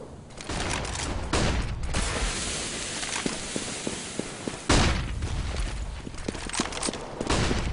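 Rifle shots from a one-on-one AWP sniper duel in a Counter-Strike match, loud sharp cracks standing out at intervals over a dense wash of game noise, footsteps and background clatter.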